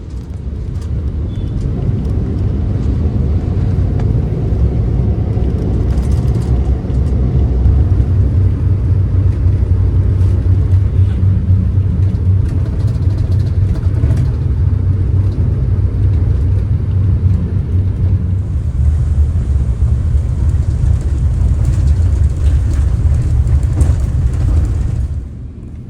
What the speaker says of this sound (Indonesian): saat ini kita udah berada di lampu merah Simpangan Depok, dan kalau menurut saya sih ini lampu merah bisa dibilang crowded banget ya, karena ada 4 persimpangan